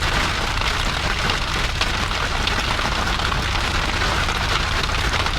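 Heavy storm rain drums steadily on a truck, a dense, loud, unbroken hiss and patter of drops on the vehicle's surface with no pauses throughout.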